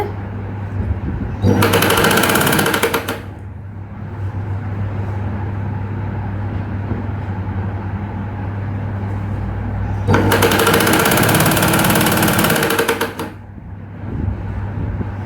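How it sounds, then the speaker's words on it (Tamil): An electric sewing machine stitching a blouse band, running loud in two long bursts of steady, fast mechanical whirring separated by quieter pauses with a background hum. "திரும்பி தைச்சிக்கிட்டே வரேன்"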